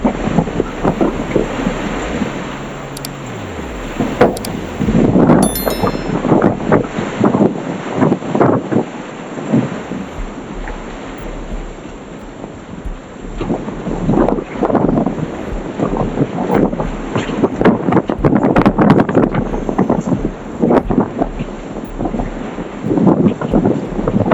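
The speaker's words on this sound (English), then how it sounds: "Strong winds are like nature's toughest inspector, testing every detail of how a structure was built." Strong wind roars and buffets the microphone without pause, a dense rumbling gust noise rising and falling in waves over nearly half a minute. No one speaks.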